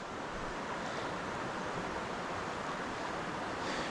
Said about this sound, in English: River's got a little bit of flow today